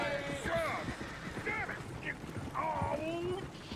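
Horses in Red Dead Redemption 2 whinnying in several drawn-out calls over soft hoof clops, heard at moderate distance with people talking underneath.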